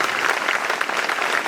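Enthusiastic audience applause at a community training program in Gumla, a brief burst of many people clapping loudly and evenly, close and full, with no speech over it.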